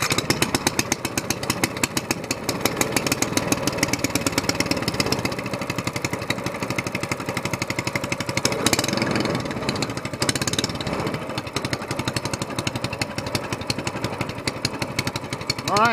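A small gasoline longtail mud motor boat engine runs loudly and continuously, its rapid pulsing drone steady throughout with slight shifts in intensity, no talking.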